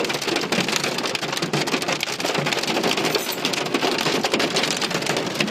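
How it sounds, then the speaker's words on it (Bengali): Hailstorm in Riyadh pelting down outdoors, a dense, unbroken roar of stones and rain striking surfaces, loud and steady with sharp crackling impacts throughout. "শিলাবৃষ্টি আর শিলাবৃষ্টি রিয়াদতে তো শিলাবৃষ্টি পুরো রোড সাদা"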